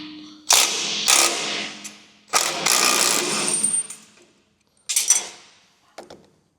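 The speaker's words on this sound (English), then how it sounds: "Small channel locks or smaller open-ended wrench will work great for these." Wrench work on 7/8 bolts from a Halo Lifts Pro series vehicle lift, heard as several short bursts of metallic ratcheting and clattering separated by silences, close and fairly loud.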